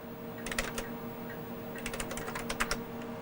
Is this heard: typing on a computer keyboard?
yes